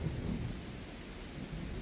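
Heavy rain pours down steadily with a low rumble of thunder beneath it, making a continuous dense roar with no voices.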